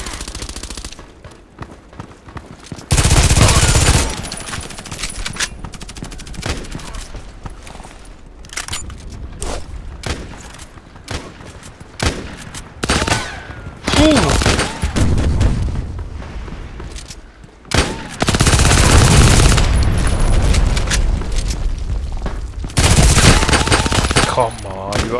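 Mortar strike explosions in the shooter Contract Wars boom in heavy bursts amid near-constant loud gunfire, with several big blasts separated by stretches of rapid shooting.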